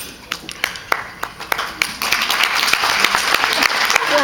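Audience at a scholarship awards event clapping: first a few sparse, sharp individual claps, then the applause swells into a fuller, steady round of clapping from the crowd.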